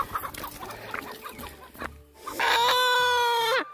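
Chickens clucking and scratching nearby, then a loud, sustained crow-like squawk from a hen close up.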